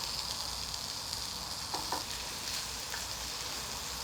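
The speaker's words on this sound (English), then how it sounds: "It's sizzling straight away." Bacon sizzles and crackles in a non-stick frying pan, a steady close hiss with a few soft stirring taps partway through.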